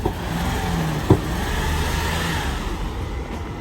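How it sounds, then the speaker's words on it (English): A 1985 Mercedes 500SEC Euro coupe idles steadily at close range, its even engine drone broken once, about a third of the way in, by a single short, sharp backfire pop. "I hear a little backfire"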